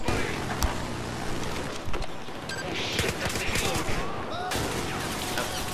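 Rapid bursts of Battlefield 4 gunfire crackle continuously, dense and loud with sharp individual reports, mixed with engine and vehicle noise, a brief pause near the middle before the shooting resumes.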